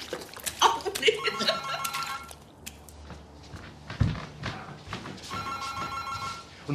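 A telephone bell rings indoors in repeated bursts, with a pause in between, while people talk, chuckle and move about nearby.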